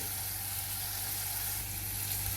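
Drumsticks with turmeric frying in a ladleful of hot oil, a dense, even sizzling hiss, loud and close, steady throughout.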